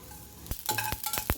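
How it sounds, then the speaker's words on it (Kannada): Mustard seeds tossed into a hot pan for a tempering of thin rasam, giving a few sharp crackles and brief sizzling bursts over a quiet kitchen background. "ಈಗ ಸಾಸಿವೆ ಹಾಕ್ತಿದ್ದೀನಿ."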